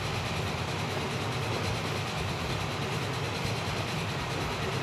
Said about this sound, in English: Remember, this train is 232 meters long and is carrying, or consists of, should I say, one locomotive.